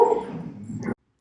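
A dog barks once or twice up close, a loud yelping burst that fades over about a second, followed by a brief faint click.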